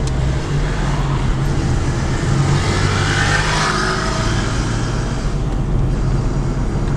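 A car drives along a road beside the Itajaí-Açu river, giving a steady, loud rumble of engine and tire noise from inside the moving vehicle with a slight surge midway.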